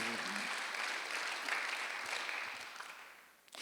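A congregation at a Sunday church service claps together, a broad even patter of many hands filling the room, easing off toward the end.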